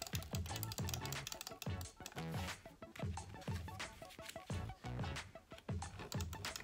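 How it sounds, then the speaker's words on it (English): Tape is pressed and rubbed down onto a paper candy box, giving close, repeated crinkly strokes and dabs in a fairly steady rhythm, with no talking. "So I'm gonna tape down right here."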